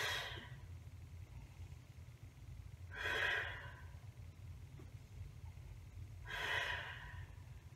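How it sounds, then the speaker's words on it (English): Three slow, deep breaths taken during a squat stretch, each a soft airy inhale spaced a few seconds apart, close and quiet over a low background hum. "Let the head drop and three big breaths into my upper back."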